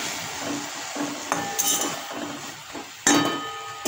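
A lid set on a cooking pot, a couple of sharp metallic clinks over a quiet kitchen background.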